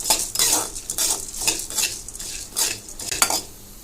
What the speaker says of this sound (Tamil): நம்ம எடுத்து வச்சிருக்கிற கடலைப்பருப்பு, உளுத்தம்பருப்பு, தனியாவை வறுத்துக்கலாம்.